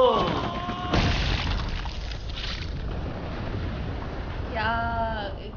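A grenade explodes in the intro scene of the action film Beast, a deep, rumbling boom that fills the whole clip alongside tonal music and movie sound.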